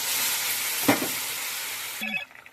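Spices with potato and eggplant fry and are stirred in a pan, a steady sizzle broken by a sharp scrape near the one-second mark and a clatter toward the end.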